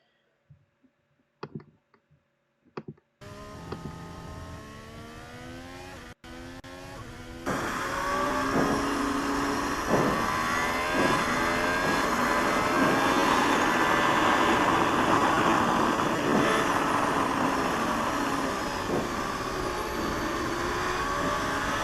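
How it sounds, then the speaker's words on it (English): After a few faint clicks, a Formula 1 car at Abu Dhabi in 2021 roars into an onboard lap, its engine rising through gears in a loud, continuous scream that holds steady to the end. "So this is Sainz's lap 54"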